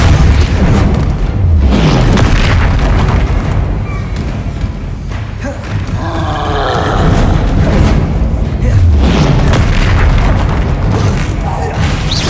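Confringo fire spells exploding in the Hogwarts Legacy video game, booming blasts bursting repeatedly amid dense combat noise, with a voice talking over the fight throughout.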